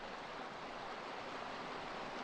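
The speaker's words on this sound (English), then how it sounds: "I'm just going to filter up a bit of water" A mountain stream on Sca Fell in the Lake District in winter rushes steadily, a broad continuous hiss of flowing water close by with no pauses.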